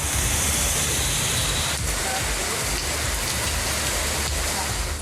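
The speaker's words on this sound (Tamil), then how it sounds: "1 மணி நேரத்திற்கு மேலாக கனமழை கொட்டி தீர்த்தது" Heavy rain pours down during the harvest season in Tamil Nadu's Nagapattinam area, a dense, steady roar of water that holds at a constant loudness from start to finish.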